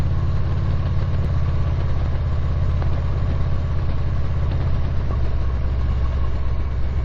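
Steady, low rumbling drone of a motorcycle engine while riding along a road, continuous and loud with wind noise over it and no changes in pace.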